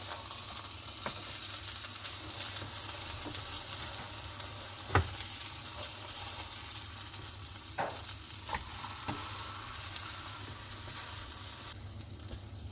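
A spicy ghost pepper burger patty sizzles steadily in a pan, a continuous close frying hiss with a few sharp clinks and scrapes of a utensil against the pan, no talking.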